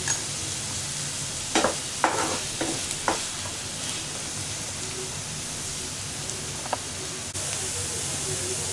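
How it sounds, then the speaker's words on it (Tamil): Onions with green chillies and curry leaves sauté in a pan, a soft continuous sizzle under several sharp scrapes and clanks of a spoon, close and moderately loud. "கருவேப்பிலை போட்டு நல்லா வதக்கிக்கலாம்"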